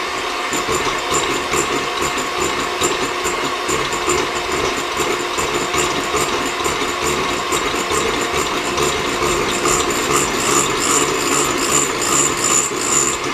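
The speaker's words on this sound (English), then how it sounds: "I'm going to mix that till it's thick and glossy" Cake batter with a teaspoon of vanilla is beaten until thick and glossy, giving a steady, loud mechanical whirring and rattling that runs unbroken throughout, with no voices.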